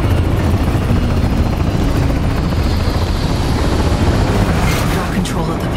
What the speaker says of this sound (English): NUS combat choppers buzzing the free city of NC.